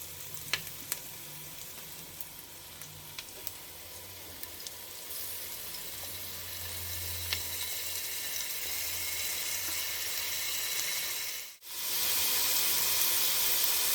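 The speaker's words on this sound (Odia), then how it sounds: "3-4 ଚାମଚ ଅଦା ରସୁଣ ବଟା ପକାଇ ଆଉ ଥରେ ଆମେ ଭାଜିବା" Three or four spoons of ginger garlic paste fry in a hot pan for a mutton biryani, giving a steady close sizzle with faint occasional clicks and a brief dropout before the hiss returns, with no talk.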